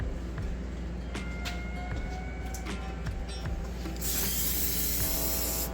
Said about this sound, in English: Be sure to get all the brake clean in the intake.